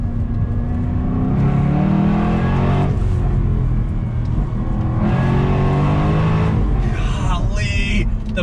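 A 2017 Jaguar F-Type SVR accelerates on full throttle, its engine roaring loud and close and climbing in pitch through a couple of gear changes, then easing off into crackling pops near the end.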